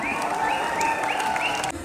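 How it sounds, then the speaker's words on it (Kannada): Audience applause at a Kannada cultural show in Kuwait, steady dense clapping close by with tonal music or voices running over it, cutting off near the end. "ಹೊಡ್ಕೊಳ್ಳಿ ನಿಮಗೆ ನೀವೇ ಚಪ್ಪಾಳೆ"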